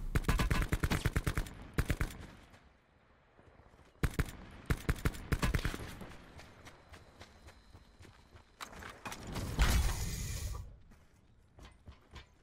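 Bursts of automatic KN assault rifle fire in Call of Duty Blackout, rapid clustered shots in several volleys separated by brief pauses, fairly faint, with a louder rumbling blast near the end.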